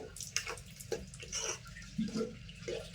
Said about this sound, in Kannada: ಈಗ ಅದೇ ನೀರನ್ನ ಹಾಕೊಂಡು ನೋಡ್ರಿ